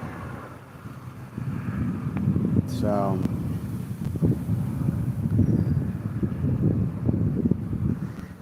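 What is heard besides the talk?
wind blowing on microphone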